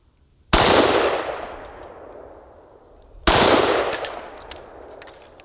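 Two loud, sharp Steyr AUG rifle shots fired at a spray paint can outdoors, a few seconds apart, each followed by a long echoing decay.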